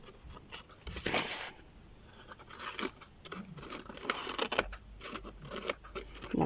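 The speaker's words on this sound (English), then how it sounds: "Let's see if we can kind of just chip into it a little bit and use the scissors and" Scissors chip and scrape at a battered craft piece, giving irregular dry snips, scratches and crinkly rustles close by, with no talking.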